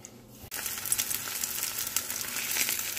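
Chicken slices for a California sandwich drop into vegetable oil in a pan and start frying, with a steady sizzle that rises sharply after a brief quiet moment and carries on loud and close.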